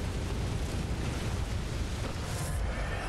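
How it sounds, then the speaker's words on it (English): Hunter Djura's Gatling gun in Bloodborne fires a continuous, rumbling stream of rounds that blurs into a dense, unbroken roar of steady loudness from start to finish. "That stream of bullets is no joke."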